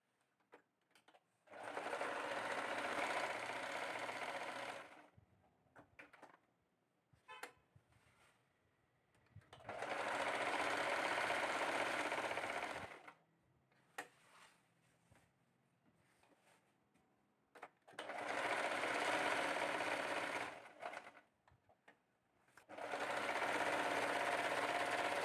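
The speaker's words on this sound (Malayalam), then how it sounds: "അതിന് ശേഷം ഇത് നമുക്ക് സ്റ്റിച്ച് ചെയ്തെടുക്കാം." Sewing machine stitching thread piping along a churidar neckline, three long runs of steady loud whirring separated by quieter pauses with small handling clicks.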